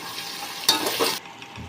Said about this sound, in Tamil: இப்போது கடைசியாக நாம் தக்காளியை சேர்த்தாச்சு தக்காளி கொஞ்சம் வதங்கணும்னா